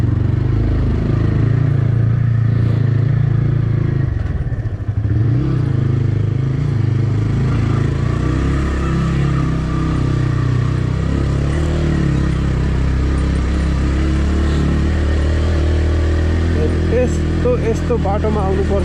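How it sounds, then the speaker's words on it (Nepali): Motorbike ride along a rough, dangerous dirt road, the engine droning steadily and close with some rattling and clatter throughout while the rider talks over it. "ला यो त डेन्जरै बाटो छ त हौ। जान्छ मेरो बाइक यहाँबाट।"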